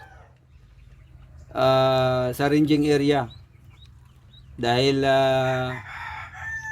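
Fighting roosters crow twice, loud and close, each crow a long drawn-out call with a brief break, while a person talks quietly in the background on a windy, cold day.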